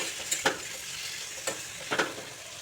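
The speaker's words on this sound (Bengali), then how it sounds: "এখন এই মশলাগুলোকে ভালো করে কষিয়ে নেব।" Turmeric and other spices fry with chopped tomato in a pan for a katla kalia fish curry, a low constant sizzle broken by three or four sharp spoon scrapes, close and quiet, no voices.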